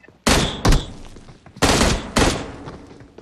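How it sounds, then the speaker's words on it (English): Gunfire in the battle royale game PUBG: four loud, close shots in two pairs, each a sharp crack with a brief rumbling tail, separated by short gaps, with no talking. "I shot him in the head."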